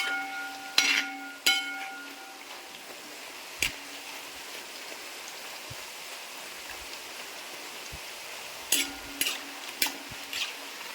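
Plantain chips frying in hot oil as they are stirred: a quiet, steady bubbling hiss broken by a few sharp metallic clinks and taps from the stirring utensil.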